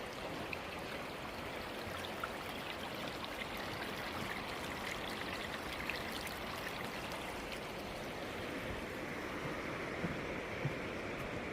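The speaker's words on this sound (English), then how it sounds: "A little creek right here." A small creek flows near an old hot springs site, a soft continuous trickle and babble of water with no voices.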